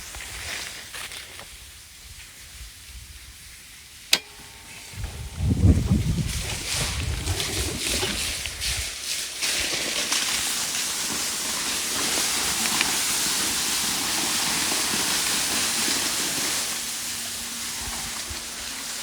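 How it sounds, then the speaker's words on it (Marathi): A borewell water pump motor on a farm switches on after a sharp click, then runs as a steady loud hiss of rushing water, with a low hum entering near the end; no talking. "आता आपण मोटर चालू करूयात"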